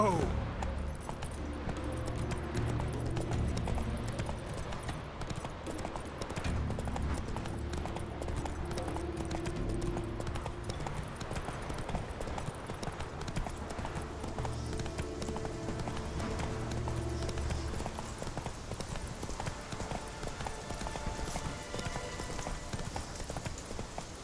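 Horse hooves pounding at a gallop in The Witcher 3, a fast continuous clatter layered over dense game music and ambience, with a voice speaking at times.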